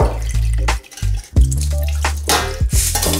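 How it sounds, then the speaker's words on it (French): Sushi rice is stirred gently by hand in water while being rinsed, giving close, wet sloshing and dripping with irregular splashes and trickles. "vous remuez légèrement comme ça en ajoutant un petit peu d'eau"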